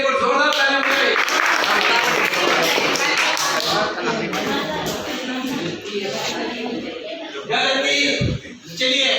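A ninth-grade class applauds a classmate's answer during an alphabet-letter activity, a burst of loud, close clapping that thins out as a teacher's voice talks over it and continues afterward.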